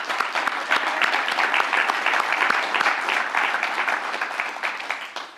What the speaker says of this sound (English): please just have a big round of applause for all the office winners